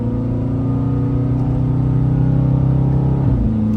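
A car engine drones loudly and steadily close by while the driver upshifts with paddle shifters, its tone holding even before dipping briefly at a gear change near the end.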